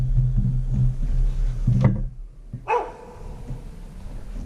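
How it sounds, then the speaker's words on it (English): Dog barking at a home sawmill workshop, a few sharp barks from a distance, then a short silence and one louder bark close by, with faint background noise. "My dog barks at everything."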